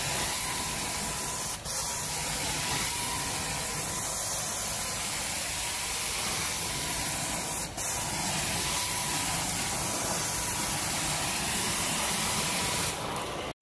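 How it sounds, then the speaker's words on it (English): A carpet cleaning machine sprays hot steam onto carpet in a loud, steady hiss that runs unbroken, with only brief dips where the spray pauses. "Got some good hot steam coming out."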